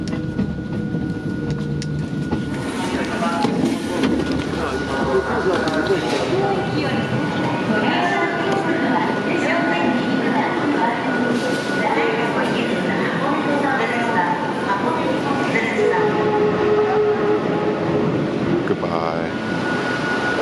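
A train runs on a preserved heritage railway, a continuous rumbling roll with rattling and mechanical clatter heard throughout, steady and fairly close, with a person talking over it.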